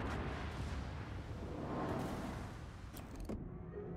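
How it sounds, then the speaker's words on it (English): Warship guns fire in World of Warships, a dull rumbling boom from naval artillery rolling under a steady low roar, with a sharper crack near the end before it cuts off, fairly faint overall. "Let's throw a few more shots on him just to make sure."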